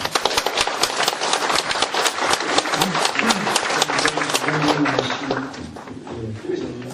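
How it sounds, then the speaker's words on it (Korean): An audience at a public humanities lecture forum in Daegu applauds to welcome the lecturer, with crisp, fairly close clapping that stays brisk throughout and eases slightly toward the end. "큰 박수 부탁드립니다."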